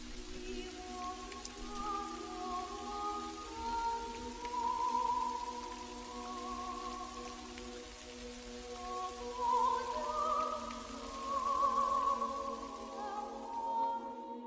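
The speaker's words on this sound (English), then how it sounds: "the rain falling into the spare room" Steady rain falls into a spare room, with a constant patter of drops on surfaces and faint tonal sounds drifting underneath, no voices.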